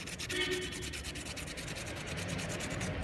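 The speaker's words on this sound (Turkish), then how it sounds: "ince zımpara, ölü zımpara, boyacıların kullandığı en ince zımpara" Rapid, rhythmic rubbing of 800-grit sandpaper cleaning a spark plug's firing tip, a close, even scratchy hiss of short strokes with no voices.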